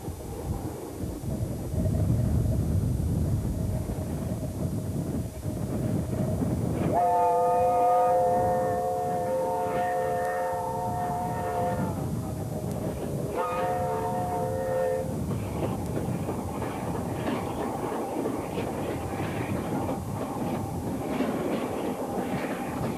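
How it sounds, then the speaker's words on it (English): An A2 steam locomotive works northbound over the Settle and Carlisle line, its rumble building and passing, with a sustained chime whistle sounding twice over the train noise. "Early July saw the A2 once again in action over the Settle and Carlisle, this time working northbound."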